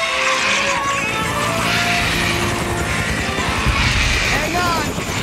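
A helicopter in the video game Jurassic Park: The Game, its rotor and engine droning steadily under game sounds and tonal effects, with speech likely mixed in.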